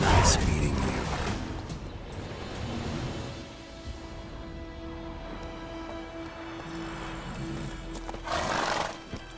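In The Witcher 3: Wild Hunt, the horse Roach gives a loud whinny at the start and again near the end, with faint hoofbeats and game ambience between, no speech heard.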